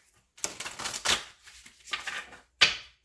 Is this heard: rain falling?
no